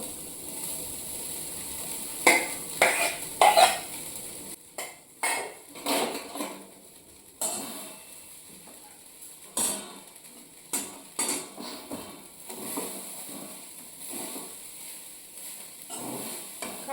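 Rice being reheated in a pan in a home kitchen, with a spoon or spatula scraping and clinking against the pan in irregular bursts over a soft, steady sizzle, close by and with no talking.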